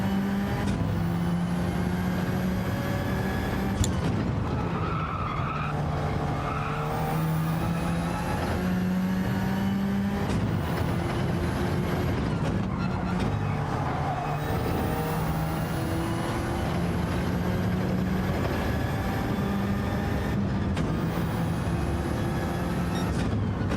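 Racing-car engine from Gran Turismo 7, driven hard through a lap, holds a steady loud drone. Repeated rising gear pulls alternate with brief drops as it shifts and brakes, with no talk over it.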